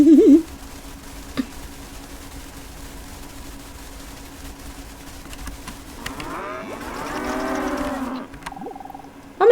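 A white cow in the game Everything lets out one long, rising-and-falling moo. The call stands out over a quiet, steady background hum, with faint tonal game sounds at the start and end.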